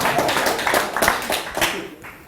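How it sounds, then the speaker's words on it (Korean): A short burst of audience applause at a lecture, scattered hand claps for a couple of seconds that taper off. "박수 한번 보내주시죠"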